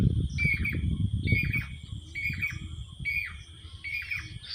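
A bird sings in a natural outdoor setting, its repeated bright phrases recurring about once a second over a steady insect drone and low rumbling background noise.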